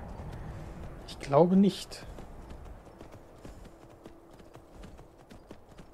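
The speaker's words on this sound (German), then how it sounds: "Ob das so smart ist, mit dem Pferd hier hochzureiten?" Horse hooves clip-clop in a brief burst as a rider heads uphill in the video game Skyrim, with a snort-like sound and a short spoken remark over sparse ambient background.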